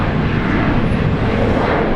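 A Virgin Australia airliner on flight 462, Brisbane to Perth, roars loudly and steadily at Brisbane International Airport, a broad continuous jet engine rumble with no pauses.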